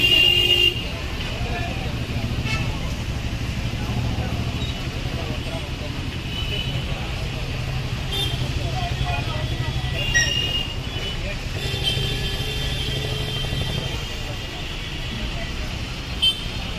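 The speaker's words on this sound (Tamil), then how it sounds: "அது தூரத்தில் ஒரு எல்லோ கலர் டிஎன்எஸ்டிசி பஸ்ஸு வருதா" A yellow TNSTC state transport bus on a Coimbatore to Chennai route approaches through steady roadside traffic. Engine rumble and a few horn toots sit under someone talking throughout.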